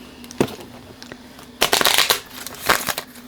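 Prop coins are shuffled and jumbled together by hand, giving a light crunchy rattle: one short burst early, then a longer busy clatter in the middle and a final shake near the end, close and fairly loud with no talking.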